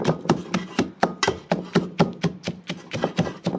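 Rhythmic pounding in a mortar and pestle during home cooking, about fourteen evenly spaced, fairly close thuds with a sharp attack and a low body, over a faint background hum.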